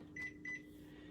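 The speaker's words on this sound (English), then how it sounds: "so we'll pop that into our microwave" A kitchen microwave oven, just loaded with stuffed pork tenderloin, hums faintly and steadily; two quick electronic beeps from its keypad come near the start, and no one speaks.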